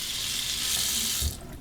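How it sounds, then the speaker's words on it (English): Cold tap water runs steadily into a sink over an alum block, a bright continuous hiss that cuts off abruptly near the end, leaving a faint dripping remainder. "remove the cap and soak this under the cold water"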